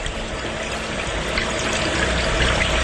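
Water pours and swishes steadily over rice in a bowl or pot as it is rinsed, a continuous close, loud wash with no talking.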